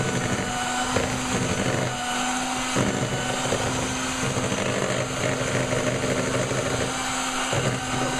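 An electric mixer beats egg whites and sugar for a pavlova with a loud, steady motor drone that runs unbroken and close throughout.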